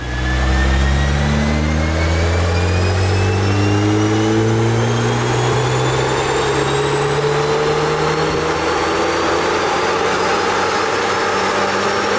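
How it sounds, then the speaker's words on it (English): A VW Golf R MK8 on a dyno revs through a long, loud, steady pull, its engine note climbing smoothly in pitch over several seconds with a continuous roar and wind-like rush, no talking. "This is a noise I've wanted to hear from a MK8 for quite a while now."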